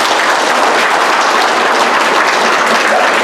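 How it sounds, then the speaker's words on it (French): Loud, dense applause from guests at a wedding ceremony, a continuous wash of many hands clapping throughout. "On l'applaudit."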